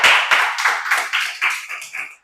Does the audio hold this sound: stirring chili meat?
no